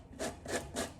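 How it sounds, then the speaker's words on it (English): A sanding pad rubbed gently along the edge of rice paper for decoupage, three soft scratchy strokes in steady rhythm, close and quiet with no talk. "we're just going to go along the edge with our sanding pad gently"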